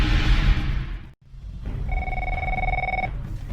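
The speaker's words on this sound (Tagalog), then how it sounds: "nagkiriringan ti telepono." A telephone bell rings once in a steady electronic trill for about a second, heard close over a constant background hum with no talking.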